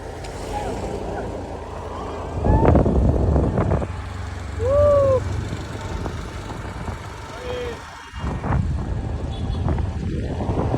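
A TVS Jupiter motor scooter rides along the road with a steady low engine hum and wind rush, while voices talk over it.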